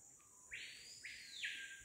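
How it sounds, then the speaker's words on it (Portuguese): A bird in the Amazon rainforest gives long, rising-and-falling whistled calls in repeated phrases, fairly clear against a steady insect-like hiss in the background. "sou louco com o barulho desse pássaro. É magnífico."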